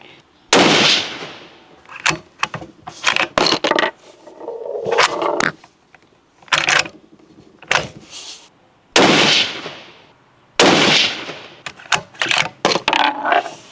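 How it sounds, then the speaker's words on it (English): Rifle shots from a Springfield Armory Model 2020 Boundary firing 175-grain ELD-X rounds at a range: several loud, sharp cracks spaced a few seconds apart, each with a short echoing tail, interspersed with clicks and handling noises. "this is the very first shot ever out of the gun"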